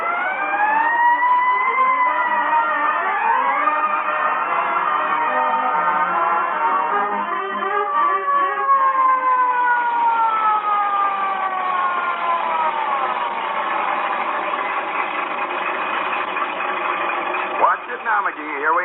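A new fire truck's siren wails continuously as it drives along, rising and falling in long sweeping tones, loud and close, from an old radio comedy broadcast.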